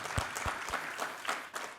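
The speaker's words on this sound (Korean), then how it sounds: "우리 하나님께 감사와 영광의 박수 올려드리겠습니다." A church congregation at a Sunday service breaks into steady, dense applause, giving thanks and glory to God. The clapping is loud and continuous for the brief moment it lasts.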